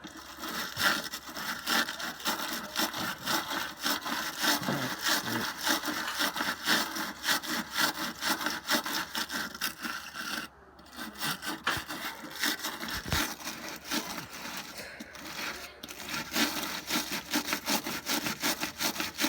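SOS steel wool pad scrubbing a car part during cleaning: a continuous rough rasping rub in fast back-and-forth strokes, close and steady, with a brief pause midway and no talk.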